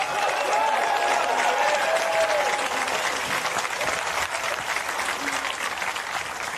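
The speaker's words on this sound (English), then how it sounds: "may we have another round of applause for both our finalists, please" A snooker arena audience gives a round of applause for the two finalists, Ronnie O'Sullivan and Judd Trump, at the 2024 World Grand Prix: loud, dense, continuous clapping from a large crowd, tapering slightly toward the end.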